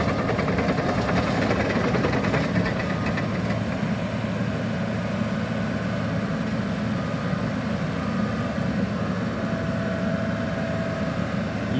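The diesel engine of a 2004 Caterpillar D5G LGP hydrostatic dozer runs at a steady idle, a continuous low rumble heard from nearby at moderate level with no talk over it.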